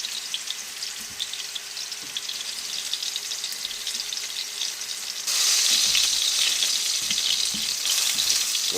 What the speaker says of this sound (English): You hear that sizzle on there?